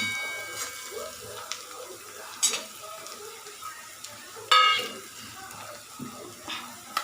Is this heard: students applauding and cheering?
no